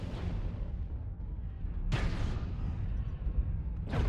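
Mech weapon shots in a MechWarrior-style battle, two heavy booming blasts about two seconds apart over a constant low rumble of machinery, no talk.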